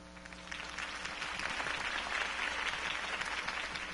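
A crowd applauds after a mayoral campaign speech, a dense wash of clapping that swells from a softer start and holds steady and close throughout.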